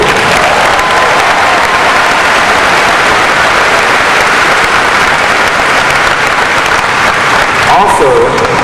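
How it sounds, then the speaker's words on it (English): A large crowd at a Porter Ridge High School graduation applauds the class of 2018's scholarships: loud, dense, rain-like clapping held steadily throughout, with a brief voice near the end. "Round of applause, please."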